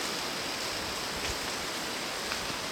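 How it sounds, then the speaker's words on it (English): A small mountain stream runs down a hillside on a trail near Ohiopyle, Pennsylvania, giving a steady, even rush of water that fills the whole clip without breaks, close by and moderately loud, with no voices. "Little stream come down the mountain here."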